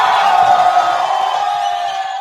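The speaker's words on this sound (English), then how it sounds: "Give him a round of applause, ladies and gentlemen." A live podcast audience gives a loud, dense burst of cheering and whooping, sustained throughout and fading slightly toward the end, with no talking over it.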